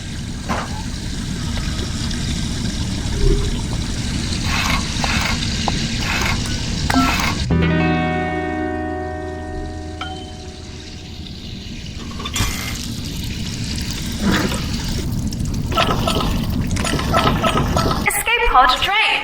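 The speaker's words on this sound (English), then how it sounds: "Escape pod drained." Water drains out of an escape pod in the VR puzzle game I Expect You to Die, a steady liquid rush and gurgle with glassy clinks, while a synthetic voice talks over parts of it.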